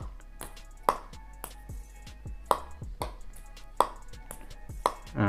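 Table tennis ball striking short pips rubber alone, giving a few sharp, isolated taps spaced about a second apart in a quiet room.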